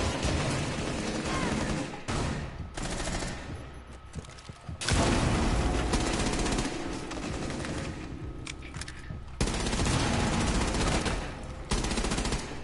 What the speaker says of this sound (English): I have 55 bullets per clip, and I'm using an assault rifle